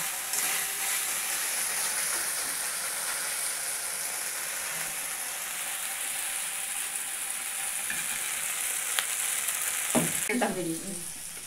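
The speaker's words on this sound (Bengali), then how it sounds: "মশলা ভাজা হয়েছে" Spices fry in a pan with a steady, broadband sizzle that runs throughout, with a few clinks of a utensil stirring near the end.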